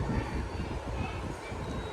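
A moving train, heard as a continuous, loud rumbling roar with no breaks, like being aboard a passenger carriage.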